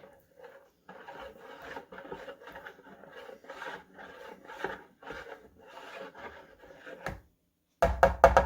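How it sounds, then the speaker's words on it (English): Rhythmic scraping and rubbing as a spoon works Red River cereal bread dough with water and molasses around a bowl, repeating in steady strokes for several seconds before a louder clatter at the end. "Just gonna stir that a little bit."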